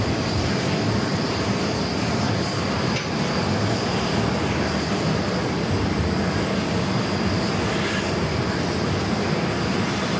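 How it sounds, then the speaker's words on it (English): A Delta Airlines Boeing 757-200 departs JFK on flight 2286 to Atlanta, its engines a steady, loud broadband roar that holds evenly throughout without letting up. "That is Delta Airlines Flight 2286 heading to Atlanta, Georgia, 757 to 200"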